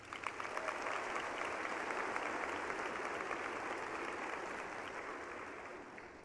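Sustained applause from the audience at a Spring 2021 commencement ceremony for a College of Education and Human Sciences, a steady crowd of clapping hands that swells quickly and holds for several seconds before easing slightly.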